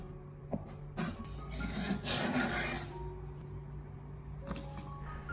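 A knife cuts scallions into long pieces on a cutting board, giving a few soft, quiet scraping and rasping strokes with a longer rubbing pass in the middle.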